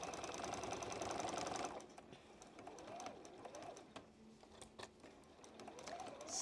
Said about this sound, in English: we're going to sew this last line together very carefully